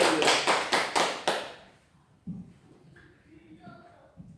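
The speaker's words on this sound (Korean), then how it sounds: "우리 박수 영광을 드립니다." A brief burst of rhythmic clapping from a church congregation during worship, about six sharp claps in quick succession, then it stops and quiet shuffling follows.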